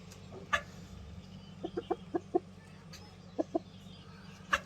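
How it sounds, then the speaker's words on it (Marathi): An Aseel rooster clucks in a poultry yard, a series of short, sharp clucks in quick clusters, close by but fairly quiet against a low background hum. "हे बघा हा आसिलचा कोंबडा आहे मित्रांनो"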